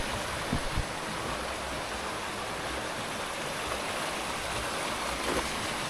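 Steady broadband rush of a river flowing close by at a trial mine site, continuous and fairly loud with no talking, with a couple of brief low thumps near the start.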